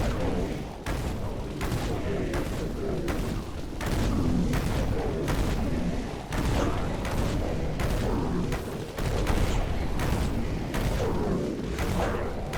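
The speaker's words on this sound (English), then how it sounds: "Minigun." Minigun blazing in the video game Dead Frontier, a dense, continuous roar of rapid gunfire with heavy booming bursts that run almost unbroken through the clip, loud and close.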